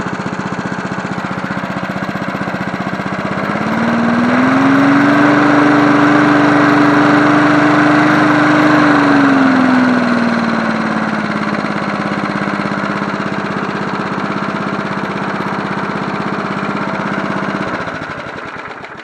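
A 1980s John Deere NO20K push mower runs steadily at close range, its small engine droning loudly, revving up briefly to a higher pitch before settling back to a lower idle and then cutting off at the end.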